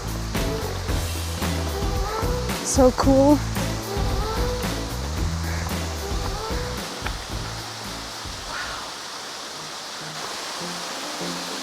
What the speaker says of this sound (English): Rocky Mouth Waterfall is fed by a natural spring